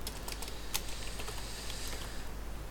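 Fingers typing a message on a computer keyboard, with a steady run of light, quick key clicks and a few louder taps, close and clear with no talking.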